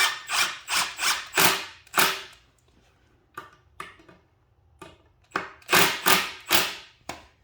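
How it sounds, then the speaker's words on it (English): An impact driver sinks screws into 2x4 wood without pre-drilling during a workbench build: four short, loud rattling bursts close by, a quieter stretch with light clicks, then another run of three or four bursts. "just take an impact, and these usually bite in pretty well without pre-drilling"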